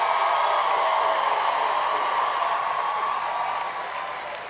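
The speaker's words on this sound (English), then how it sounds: "give them a rousing round of applause" Graduation ceremony audience at the University of the West Indies giving a rousing round of applause, a loud, sustained roar of clapping and crowd noise that tapers slightly toward the end.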